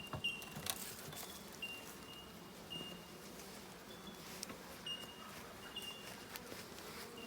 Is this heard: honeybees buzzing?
yes